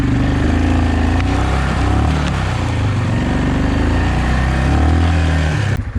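A four-wheel-drive off-road machine's engine runs loud and close, holding a steady drone that swells and dips with throttle, with no one speaking.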